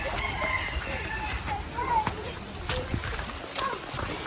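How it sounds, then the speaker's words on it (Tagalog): Chickens at a small backyard poultry farm in the Philippines let out scattered short clucks and squawks at moderate distance, with voices talking faintly in the background. "Yan na po yung mga manok ni sir, oh."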